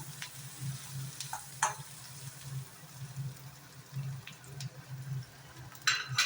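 Onions fry in a pan for a bean sambar, making a soft, steady sizzle with a low hum beneath it, broken by a few brief clinks and scrapes, and a burst of louder spattering at the end.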